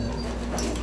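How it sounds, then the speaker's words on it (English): A puppy whimpers in aggravation, giving a short, fairly close high whine over a steady low background hum. "That's my puppy, all aggravated."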